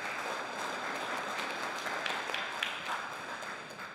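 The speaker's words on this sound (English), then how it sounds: "go ahead and give a round of applause" A church congregation at a Thanksgiving Sunday service in a United Methodist church applauds, a dense, steady wash of clapping from many hands that carries on for several seconds before starting to ease off.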